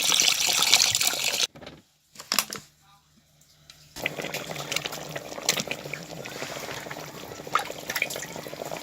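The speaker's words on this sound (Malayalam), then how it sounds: "നമുക്ക് വെള്ളം ഒഴിക്കാം. വെള്ളം എന്ന് വെച്ചാൽ ഒരു 500 മില്ലി" About 500 ml of water poured into a cooking pot: a splashing pour, a brief pause, then a continuing watery trickle and stir close up.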